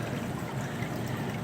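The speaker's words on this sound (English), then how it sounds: "The only sound you're hearing here is the water hitting the water." Water from a Tetra Whisper EX 70 hang-on-back aquarium filter falls back into the tank, a steady close trickle and splash with no pause, heard on its own.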